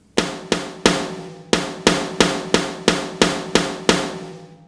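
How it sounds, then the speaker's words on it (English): Sharp sampled snare drum hits from a hardcore mix ring out alone in a steady pattern, eleven crisp strikes with short decaying tails and a brief pause after the first three. "Now to beef up the snare a bit, I did add a sample"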